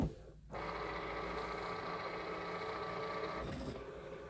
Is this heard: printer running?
yes